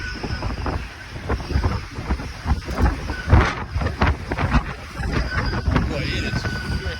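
Strong wind buffets the microphone on the open deck of the Port Townsend to Keystone ferry, a loud, gusty roar with rumbling low thumps throughout, while someone speaks over it.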